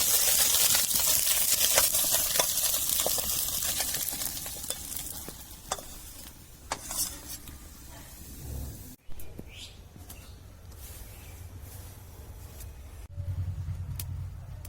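Fish chorchori cooking in oil with tomato and potato, with a steady stirring and frying sizzle that fades partway through, then a brief lower rumble near the end.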